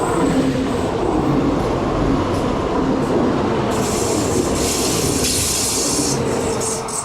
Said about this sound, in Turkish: Akşam trenimiz de geçiyor.